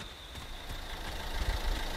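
A car engine idles in a horror video game, a low, steady rumble with a faint knocking pulse that swells slightly toward the end, with no voices.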